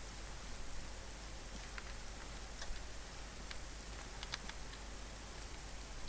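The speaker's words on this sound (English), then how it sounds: "Could the admin turn the rain off by any chance?" Steady rain in the military game Arma 3, a soft continuous hiss with scattered faint droplet ticks throughout, fairly quiet and unbroken, with no talking over it.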